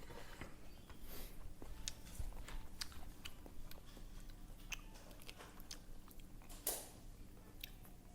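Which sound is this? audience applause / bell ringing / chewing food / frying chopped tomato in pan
chewing food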